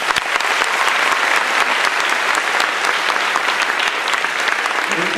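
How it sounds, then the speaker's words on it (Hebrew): Sustained audience applause fills a comedy evening hall in Haifa, dense steady clapping from a large crowd, loud and close throughout with no speech over it. "ומגיעות לכם הרבה מחיאות כפיים"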